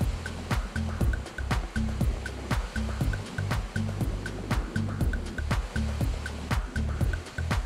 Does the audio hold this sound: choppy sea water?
yes